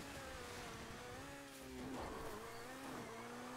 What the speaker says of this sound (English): You can hear the turbo, hear the shifting, all this stuff, the popping.